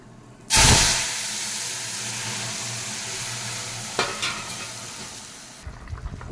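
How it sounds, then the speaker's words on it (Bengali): Dried red chillies and five-spice seeds hit hot oil as a tempering for dal, a sudden loud burst of hiss that eases into a steady sizzle, with a few utensil taps near the end. "শুকনো লঙ্কা আর 5 ফোড়ন দিয়ে দিচ্ছি। ডালটা আমি ফোড়ন দিয়ে দিচ্ছি।"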